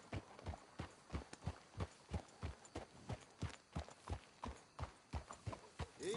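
Steady clip-clop of horse hooves in Red Dead Redemption 2 at a brisk, even trot, fairly close, with faint ambient noise behind.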